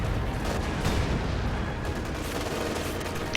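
German Grenadiers and a Panther tank fire on a munitions cache in Company of Heroes 2, a continuous, dense clatter of rifle and machine-gun fire with heavier booms mixed in, loud throughout.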